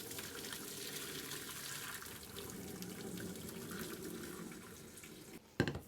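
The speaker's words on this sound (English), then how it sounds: "bring it over here to the sink and strain it through a colander." Cooked rice and water poured from a pot through a colander into a kitchen sink, a steady rushing splash that ends in a brief clatter.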